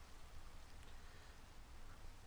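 Steady rain pours in a Minecraft modpack world, a soft, even wash of droplets with no breaks, held at a faint, constant level throughout.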